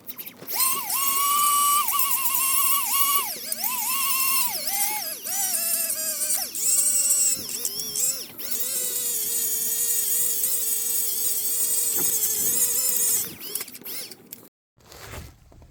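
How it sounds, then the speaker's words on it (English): Die grinder cleaning up Humvee cooling system parts, a continuous high whining drone with shifting pitch that runs loud and close for about thirteen seconds before cutting off abruptly. "I'm going to take a die grinder and"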